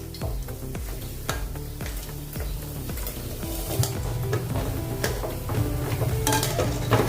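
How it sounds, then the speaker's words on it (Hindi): Potato and raw rice pakoras fry in hot oil, a loud, continuous crackling sizzle that runs throughout, broken by repeated metal clinks and scrapes of a utensil against the pan. "अभी ये अच्छे से तल गए हैं।"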